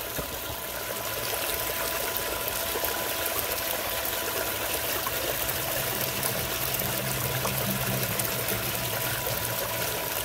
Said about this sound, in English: you can see how the water flows through it.